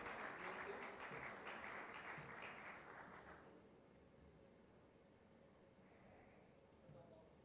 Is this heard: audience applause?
yes